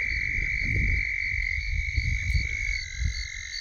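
Red-spotted toads trill in a steady, high-pitched drone from a small pond at night, several calls overlapping, with low rumbling noise underneath.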